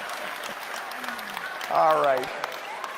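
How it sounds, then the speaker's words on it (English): A crowd at a live event in Surrey, BC claps for a young boy, a broad wash of applause under a voice, with a brief speech burst near the middle. "Give him a round of applause, everybody"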